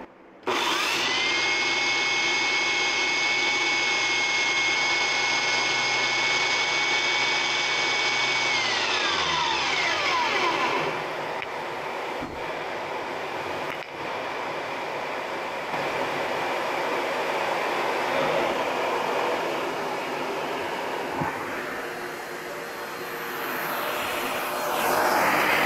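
A 1970s German-made Bosch 1270 4x24 belt sander runs with a steady, loud motor whine, then winds down in pitch and gives way to a rougher, broadband rushing noise, with no talking.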